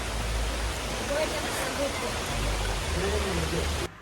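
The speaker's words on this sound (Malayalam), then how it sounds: "മഴ പെയ്തു ഞങ്ങൾ ഞങ്ങളുടെ വിശ്രമ കേന്ദ്രത്തിൽ ഇരിക്കുകയാണ്" Heavy rain pours steadily in the hills of Idukki, a dense, even roar heard from under a shelter; it stays constant throughout and cuts off sharply near the end, with faint voices traced under it.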